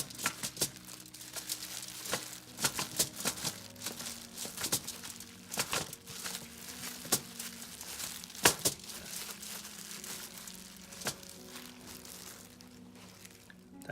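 Paper towels crinkle and pat against raw pork skin being dried for an air-fryer siu yuk roast pig, a close, irregular run of soft papery crunches and rustles with no talking.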